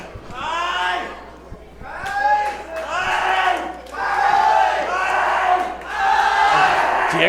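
A wrestling crowd chants and cheers behind wrestler Diego Hill in rising, rhythmic bursts of massed voices, loud and near, swelling in repeated waves.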